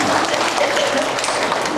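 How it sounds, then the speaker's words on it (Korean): Church congregation applauding together after a closing prayer at a Korean university worship service, a dense steady wash of clapping for under two seconds with no clear gaps. "하나님께 영광의 박수를 올려드리겠습니다"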